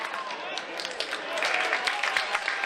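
Crowd clapping in the stands at a HarbourCats baseball game, encouraged by the team's dugout: steady, moderately distant applause running throughout.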